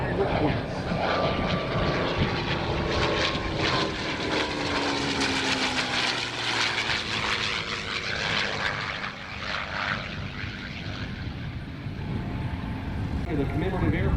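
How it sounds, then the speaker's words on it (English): A P-51C Mustang propeller fighter passing at over 320 mph at the 2024 Rochester, New York airshow, a loud sustained engine drone with a falling pitch as it goes by, while an announcer talks over a public address. "Inbound now from our left at over 320 miles an hour. Get your cameras on this. The P-51C Mustang by request."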